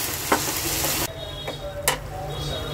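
Tomato puree fries in a pan with a steady, dense sizzle, broken by a few sharp utensil taps and scrapes near the mic.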